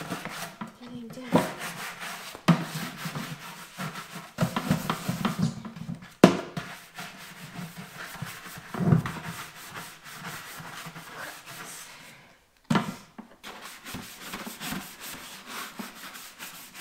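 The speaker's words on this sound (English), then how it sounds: "Use a really hard scrub brush, just making sure we're getting all residue off." A hard scrub brush scrubs residue off a surface during barn cleaning, with repeated rough rasping strokes in bursts and short pauses, fairly close and moderately loud.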